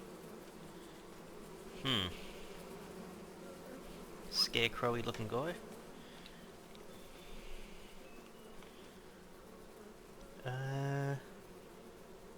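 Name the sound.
bees buzzing near hives in video game Farming Simulator 25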